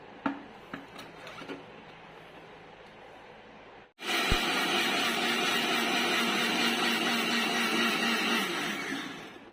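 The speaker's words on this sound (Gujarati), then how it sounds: "હવે આપણે એને ગ્રાઇન્ડ કરી લઈશું." A mixer grinder whirs through coffee cup cake ingredients including ghee; after some quiet clinks it starts abruptly into a loud, steady grinding drone that runs for several seconds before starting to wind down.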